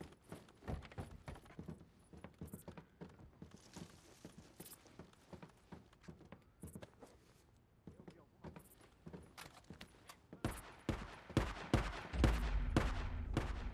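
Sharp, rapid bursts of gunfire from the video game Days Gone, scattered at first and growing denser and louder toward the end, with low rumbling underneath.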